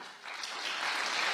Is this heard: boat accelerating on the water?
no